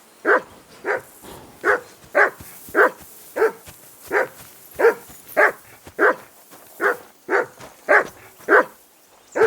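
A dog barks repeatedly in Kingdom Come: Deliverance II, about fifteen loud, evenly spaced barks close by with no talk over them.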